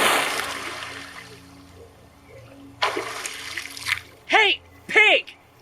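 A body thrown into water makes one big, sudden splash, which is quickly followed by two short, loud vocal cries.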